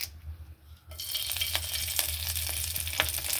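Hot oil goes briefly quiet, then erupts into a loud, close sizzle as mustard seeds and curry leaves drop in, with crackling pops spitting through it.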